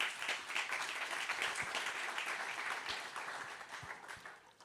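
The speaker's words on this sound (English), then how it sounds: "thank you for giving them a round of applause" Audience applause fills a conference hall at a yachting event in Monaco, with dense, steady clapping from many hands that holds strong, then thins slightly near the end.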